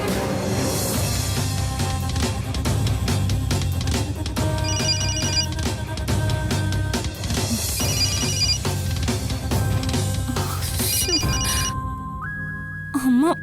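A phone rings with a repeating melodic ringtone in a domestic TV drama scene, heard in several bursts over a bed of background music and room noise, fairly loud and close.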